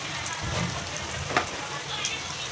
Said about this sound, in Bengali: ভেজে নিব আগে।